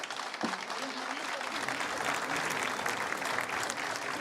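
Audience applause at a talk in the Macondo pavilion at a García Márquez event in Mexico, a steady wash of many hands clapping that rises after a brief start and holds loud and dense to the end.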